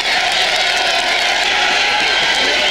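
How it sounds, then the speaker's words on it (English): A packed arena crowd at a kickboxing fight in Memphis, Tennessee cheers and roars loudly, a steady, dense wall of voices with whoops and shouts lasting throughout. "Listen to the crowd here in Memphis."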